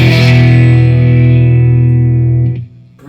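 A 1996 Fender Stratocaster Ultra plays one loud crunchy distorted chord drenched in heavy reverb, sustaining for over two seconds before it is cut off. Nobody speaks.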